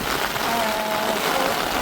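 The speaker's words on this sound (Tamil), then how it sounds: "சரியான மழை பார்க்க மாட்டீங்களா" Steady heavy rain pours down without a break, a dense even wash of noise close by at Mullivaikkal, Sri Lanka, during a storm.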